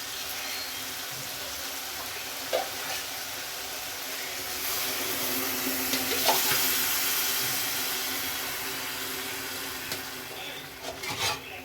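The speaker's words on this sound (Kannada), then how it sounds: "ಒಂದೂವರೆ ಗ್ಲಾಸ್ ಅಕ್ಕಿಗೆ ಮೂರು ಗ್ಲಾಸ್ ನೀರು ಹಾಕ್ತಿದ್ದೀನಿ" Water runs into a cooking pot for vegetable pulao rice in a continuous, fairly loud rushing pour that swells slightly mid-way and fades with a few small knocks at the end.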